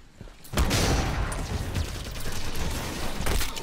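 Plasma caster weapon firing in Halo 5, a loud burst of blasts and booms erupting after a brief quiet start, followed by continuous busy combat noise and further impacts.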